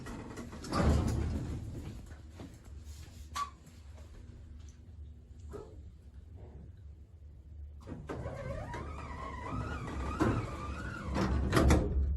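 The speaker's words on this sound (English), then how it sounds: "I'll get the motor going up" A hotel elevator motor at a Hampton Inn on Tunnel Road, newly updated, starts with a low steady hum and a thump. Later it swells into a louder whirring drone with a wavering whine as the car travels up.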